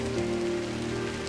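Light rain falls steadily in the video game Drizzlepath: Genie, a soft, even patter at the start of a dawn morning, carrying on throughout with a sustained musical drone beneath it.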